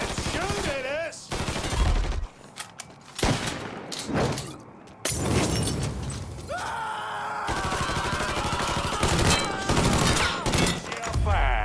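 Gunfire in the video game Mafia III, bursts of loud shots and rattling volleys mixed with breaking glass and impacts, broken by short pauses, while characters shout and talk over the fighting.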